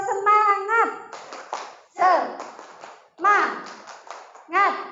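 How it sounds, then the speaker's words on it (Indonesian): Classroom spirit clap in an Indonesian school, a group of children chanting in rhythmic bursts with claps interleaved, four loud phrases separated by short gaps. "monggo Bapak Ibu, tepuk semangat"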